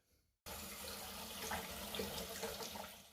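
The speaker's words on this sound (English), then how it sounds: "stick it in the sink, get some cold water on the outside of the pan" Cold water starts gushing from a tap into a kitchen sink onto the outside of a homebrew pan, a sudden onset after a brief quiet moment followed by a steady, close splashing rush.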